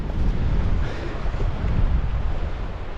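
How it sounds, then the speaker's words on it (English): Strong wind gusts buffet the microphone along a coastal crag on the Isle of Mull, a loud rumbling roar with surging swells and no pause, close and unbroken with no talking. "the wind is really picking up"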